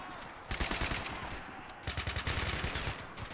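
Gunfire breaks out in a video game battle during an ambush on a Russian convoy of armored jeeps, with loud rapid bursts of shots following one after another in a sustained fusillade.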